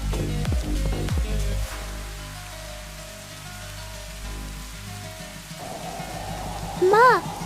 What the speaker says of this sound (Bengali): মা, যেমন বৃষ্টি হচ্ছে তেমন ঝড়।